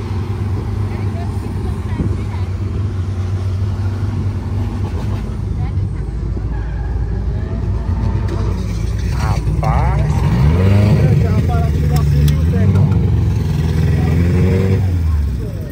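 Naturally aspirated five-cylinder car engine at the Eusébio racetrack, droning steadily close by with rising and falling revs. Someone talks throughout.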